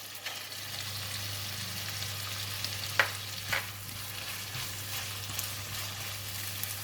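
Yellow onions and shiitake mushrooms frying in a pan for fried kuey teow, a steady quiet sizzle with a couple of sharp scrapes of stirring.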